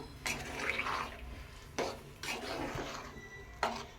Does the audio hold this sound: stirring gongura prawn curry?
yes